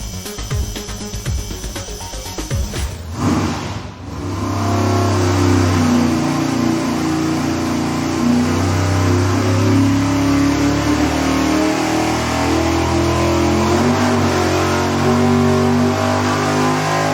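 Engine on a dyno with a 150-shot nitrous setup at 5 psi, a short burst of rough revving followed by a loud, sustained full-throttle pull that holds steady to the end with no talk.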